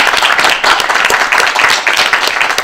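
Audience applause welcoming a guest at a Korean art-song concert in Daegu, a dense burst of many hands clapping close by, steady and loud with slight surges and no speech.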